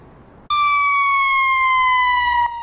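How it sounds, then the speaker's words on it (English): A police siren on Chicago's DuSable Lake Shore Drive after a three-vehicle crash starts abruptly as a loud, close, steady wail with a slowly falling pitch, holding for about two seconds before cutting off. "Sounds of sirens down Lakeshore Drive this evening."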